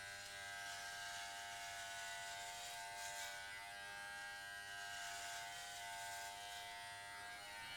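Novah hair clippers running on their turbo setting, a steady, close electric buzz with a high whine that holds evenly throughout with no talking.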